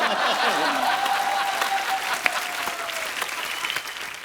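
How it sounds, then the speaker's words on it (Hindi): Studio audience applause on a Hindi comedy talk show, The Kapil Sharma Show: a dense, steady wash of clapping from a large crowd that carries on without a break for the whole stretch. "तालियां जोरदार होनी चाहिए"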